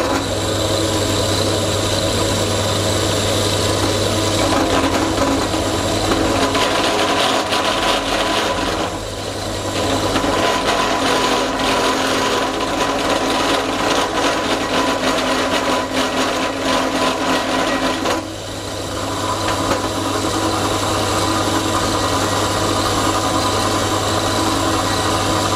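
A drill drones steadily for a long stretch while drilling holes, its whine dipping briefly twice before resuming at full, close volume.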